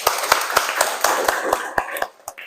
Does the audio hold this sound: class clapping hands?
yes